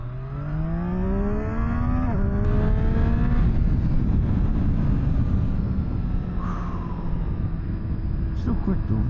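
A 2018 Triumph Street Triple R motorcycle accelerates hard, its engine pitch climbing steeply and dropping back at two quick gear shifts before settling into a loud, steady roar as the bike pulls away.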